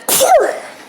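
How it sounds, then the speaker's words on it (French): A single human sneeze bursts out close and loud with a sharp breathy onset and a short voiced tail, then fades out. "j'ai un éternuement"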